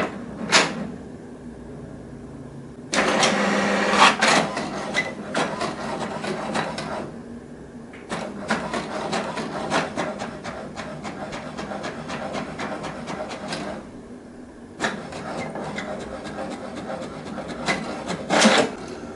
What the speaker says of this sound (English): The document has been printed.